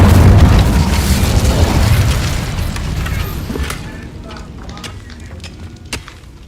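Incendio fire spell cast in Hogwarts Legacy, a loud booming burst of flame at the start that rumbles and fades over several seconds, with scattered crackles and pops trailing off.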